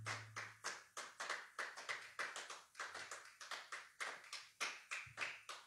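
A church congregation claps in steady rhythm to acclaim Jesus, sharp repeated hand claps in a regular beat, with a low sustained hum underneath.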